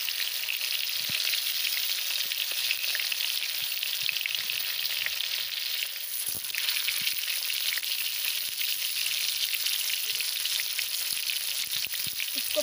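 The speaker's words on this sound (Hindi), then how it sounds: "इसको पूरी ऑयल में ऐसा करके हम डाल लेते हैं, जितना स्पेस है वो इजली फ्राई हो जाता है" Stuffed bitter gourd (karela kalonji) frying in oil over a medium-low flame, a steady close dense sizzle and crackle throughout, with no one talking.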